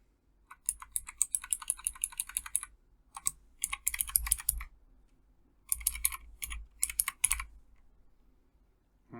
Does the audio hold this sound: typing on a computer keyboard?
yes